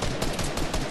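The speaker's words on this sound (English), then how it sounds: "I shot two bullets in my semi and hit both of them" Rapid semi-automatic rifle fire in a shooting video game, a couple of loud, close, dense gunshot bursts packed into under a second, with no speech.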